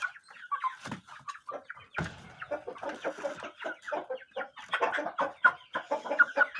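Rooster clucking close by, a busy run of short, irregular clucks and throaty calls, with a few louder bursts and no talk over it.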